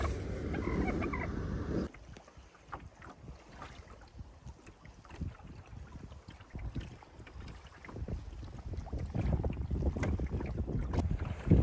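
Wind buffeting the microphone while drifting in a canoe on Rock Lake in Algonquin Provincial Park in spring, a steady low rumbling gust noise with soft water lapping against the hull.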